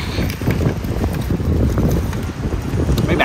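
Strong sea wind at night on a Miami waterfront buffets the microphone in a steady, loud, rumbling roar with gusty swells and no voices.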